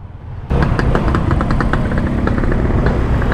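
A motorcycle rides along a busy provincial road in Pagbilao, Quezon during peak holiday traffic, its engine starting abruptly and running loud and close with steady drone and rattling tones for the rest of the stretch, with no talk.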